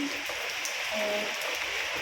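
Steady rain and wind outside a house in Taiwan during a typhoon, a constant hissing wash with no break, heard from indoors at moderate level, with a faint tonal hum drifting briefly through.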